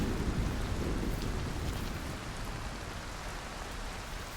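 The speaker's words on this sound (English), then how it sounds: "Oh, rain in games that you can smell, right?" Steady, dense rainfall in the video game Cairn, a constant broadband downpour that stays full and even from start to finish, with a low rumbling undertone and no voices.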